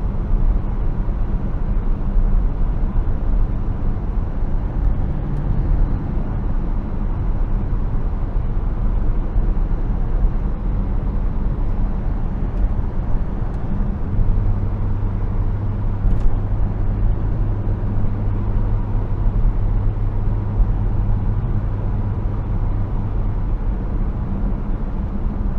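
A Saab 9-3 Turbo X with a failing propshaft cruises along, giving a constant low drone of road and engine noise with a steady humming vibration tone that persists through the second half.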